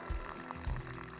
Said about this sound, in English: There goes a bubble, bubble, bubble, bubble.